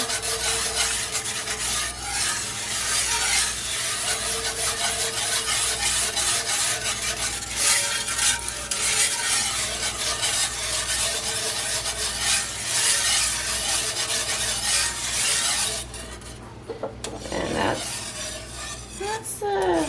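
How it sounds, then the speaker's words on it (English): Thickening gravy for smothered pork chops being stirred in a pan: a continuous close scraping and rubbing of a utensil across the pan bottom, steady and loud, with a brief pause near the end. "Keep on stirring."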